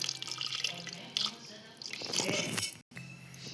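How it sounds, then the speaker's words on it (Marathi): Water splashing and pouring steadily into a pan, close by, with a brief break near the end. "पाणी आता आपण त्यात टाकतोय"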